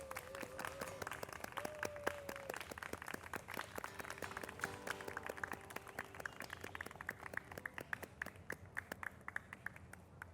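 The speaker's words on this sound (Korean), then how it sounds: "자, 우리 하나님께 영광의 박수 올리겠습니다." Church congregation at a Korean evening prayer service clapping together, a steady run of close, sharp claps that continues for about ten seconds with faint organ or keyboard tones held underneath.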